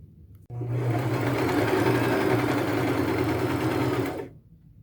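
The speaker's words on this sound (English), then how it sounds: "I will take it to my machine and I'll do a 1/4 inch seam allowance, and I'll go down each side twice" A sewing machine stitches a quarter-inch seam down the side of a denim belt bag, starting abruptly and running at an even, rapid whir for about four seconds before stopping.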